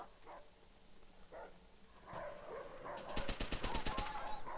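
A dog barks amid bursts of rapid machine-gun fire in the World War II shooter Call of Duty: World at War; a few faint barks come first, then a loud burst of automatic gunfire takes over.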